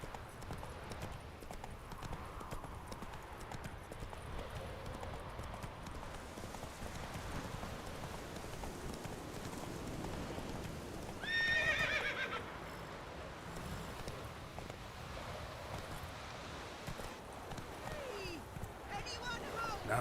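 Geralt's horse Roach in The Witcher 3, steady hoofbeats under rain and ambient noise, with one brief loud neigh midway and a character speaking nearby.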